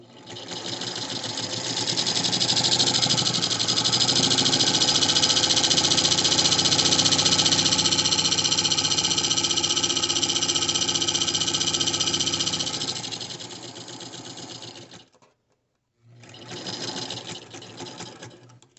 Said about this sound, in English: this is my Singer Spartan 192 that I refurbished with the foil